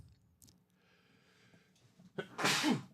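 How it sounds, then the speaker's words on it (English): A single loud sneeze bursts out after a quiet stretch of faint background noise, with a short sharp inhale leading into it. "I'm gonna sneeze again."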